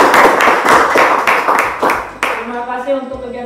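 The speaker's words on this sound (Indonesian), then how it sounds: "Oke, tepuk tangan semua buat kita kegiatan hari ini." A class of seventh-grade students claps together at the end of a school lesson. The claps are loud and irregular for about two seconds, and then a voice talks over the fading applause.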